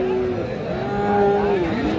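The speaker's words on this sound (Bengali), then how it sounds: "দেখেন এই গরুটি" A Friesian bull calf at Raniganj cattle market lets out one long, drawn-out moo that rises and falls over two seconds, loud and close.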